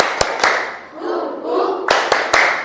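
Classroom of pupils doing the tepuk Indian clapping routine, sharp claps in pairs and triplets at the start and end, separated by a stretch of chanting voices.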